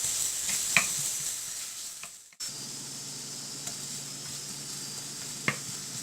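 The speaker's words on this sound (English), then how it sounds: "Oil is heated again, and then put the onions." Onions frying in hot oil for a spicy broccoli yogurt curry give a steady close sizzle with a faint high hiss and brief stirring clatters, briefly cut off near the middle before resuming.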